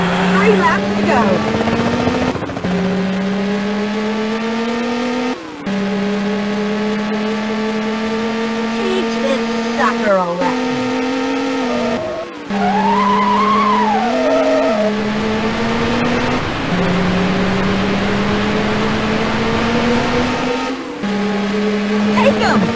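Race car engines from the Rage Racer video game drone loudly and continuously with rising pitch sweeps as the cars accelerate and shift, broken by brief dips, with a skidding squeal near the middle; there is no speech.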